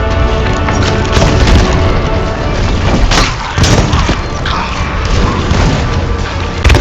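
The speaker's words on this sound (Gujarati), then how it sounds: "પાવડર બેરલ થી છે ને ફોડવાનો છે ઓલા" A powder barrel blowing up in the pirate video game Sea of Thieves, a loud, dense booming blast with splintering crash texture filling the whole span, followed by further rumbling impacts.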